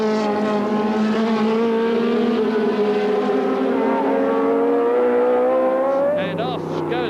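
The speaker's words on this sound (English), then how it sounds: "Down from second to fourth in one lap goes the yellow toy BMW of Sean Walker and Bob Evans" Race cars at a Brands Hatch Thundersports race in 1985, a loud sustained engine whine climbing in pitch as a car passes close by, then a further car roaring in, with a commentator talking over it.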